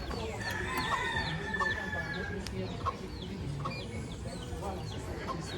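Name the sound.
chicken clucking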